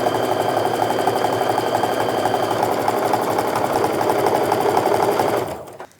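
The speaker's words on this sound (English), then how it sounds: "lift up your presser foot, feed in the next piece, and start sewing" A sewing machine stitches quilt strip sets together, running as a steady, close, continuous mechanical whir for most of the stretch before stopping abruptly near the end.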